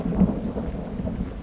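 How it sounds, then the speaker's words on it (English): A rainstorm with thunder rolls over Utah mule deer hunting country, with a low, rumbling wash of rain and thunder filling the short stretch without pause. "And yes, we are walking into a rainstorm."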